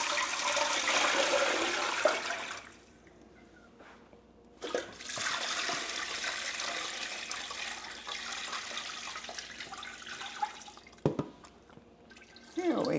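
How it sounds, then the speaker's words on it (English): Water poured into a cooking pot holding leftover ham for a rich broth, a steady rushing splash lasting several seconds with a brief pause midway, close and fairly loud, no talking. "Then we're just going to pour in water."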